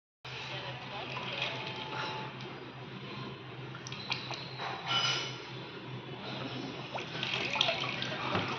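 Water sloshes and splashes steadily as a face is dunked and washed in a bowl of ice-cold water, close and continuous with a few louder splashes.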